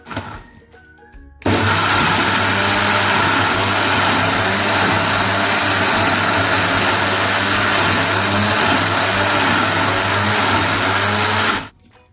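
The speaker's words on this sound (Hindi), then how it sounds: "ग्राइंडर को चला दूंगी।" A loud electric grinder whirs steadily for about ten seconds while grinding red chilies into paste, starting abruptly after a brief quiet moment and cutting off at the end.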